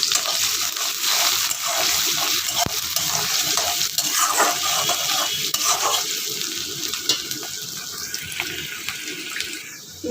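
Sliced onions fry in a pan, giving a steady crackling sizzle with scraping stir strokes and a few sharp clinks over ten seconds, with no voices.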